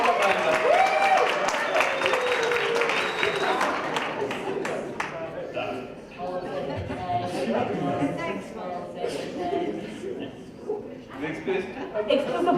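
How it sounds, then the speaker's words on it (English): An audience applauds the organizers at a business roadshow event, a steady wash of clapping that fades after a few seconds into scattered claps and murmuring crowd voices. "So, round of applause for organizers."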